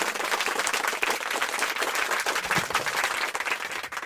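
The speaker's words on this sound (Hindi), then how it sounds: "पूरी तालियों की गड़गड़ाहट के साथ बुलाइएगा" Dense, sustained applause from the audience at a Hindi kavi sammelan poetry gathering, a continuous roar of many clapping hands with no break.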